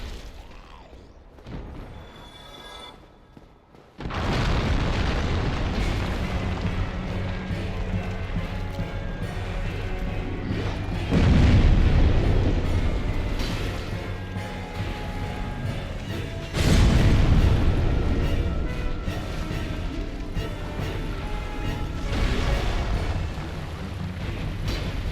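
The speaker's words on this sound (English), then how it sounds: "I get nervous about those giant explosions that he does." Giant explosions from a boss fight in a video game, with a sudden loud onset of heavy rumbling blasts that keep booming and swelling in waves over a sustained roar.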